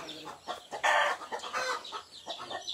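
Chickens at a rural farm cluck and squawk in a busy, overlapping series of calls, moderately close, with a brief louder burst near the middle.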